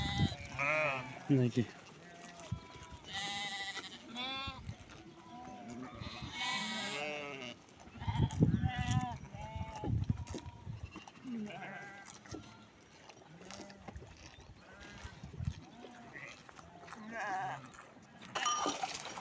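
A herd of goats with young kids bleats repeatedly in an outdoor farm setting, the loud cries near and overlapping, with someone talking between and over them.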